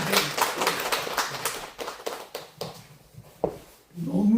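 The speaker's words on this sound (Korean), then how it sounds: "자, 따뜻한 박수 보내주세요" An audience at a year-end gathering claps for a pansori performer, giving a close, uneven patter of hand claps that thins out toward the end before a voice begins speaking.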